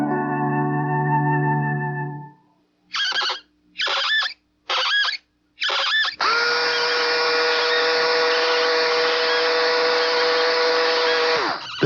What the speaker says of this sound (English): The Skill Twist cordless power screwdriver.